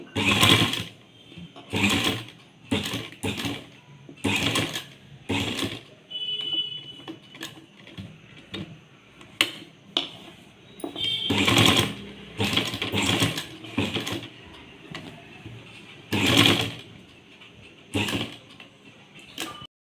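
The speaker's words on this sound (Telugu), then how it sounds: "నిదానంగా కుట్టుకోవాలి త్వర త్వరగా కుడితే మూలలు రావు" A sewing machine stitches a cut work blouse in repeated short bursts, each run of rapid mechanical clatter separated by brief pauses, close and fairly quiet with no talking.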